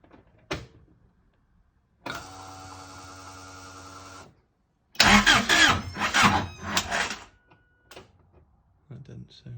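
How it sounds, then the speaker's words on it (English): A turbocharged Honda Civic EG with a D16Z6 engine is cranked over, giving a couple of strained starter bursts and a rough, uneven attempt at catching, with quiet pauses between. "we'll give it a go turning it over"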